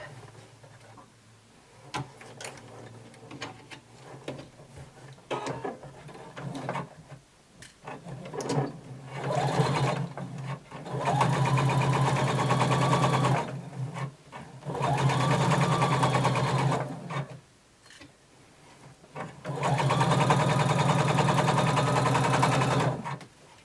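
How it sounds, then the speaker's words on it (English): A sewing machine stitches a flared skirt seam from the bottom up in bursts, with three long steady runs after some short starts and stops, loud and close with no talk. "now we're going to sew from the bottom up."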